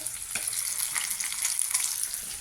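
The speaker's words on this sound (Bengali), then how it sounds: "এই যে মাছ ভাজা হচ্ছে" Fish fries in hot oil in a pan, a close, continuous crackling sizzle with small pops and occasional stirring scrapes, steady and moderately loud with no talking.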